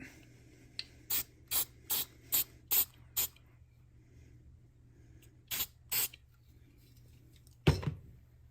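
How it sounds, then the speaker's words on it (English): Short hissing bursts of a flat black aerosol spray paint can, a quick run of about seven sprays, then a pause and a few more, close and clear. "Here's some flat black spray paint."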